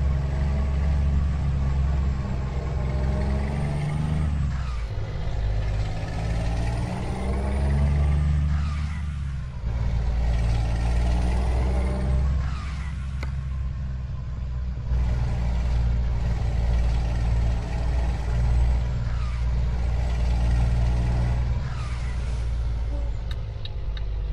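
Scania P-360 truck hauling a box trailer with about 14 tonnes in Euro Truck Simulator 2, its simulated diesel engine droning loud and steady as it accelerates, with rising and falling revs and gear shifts throughout.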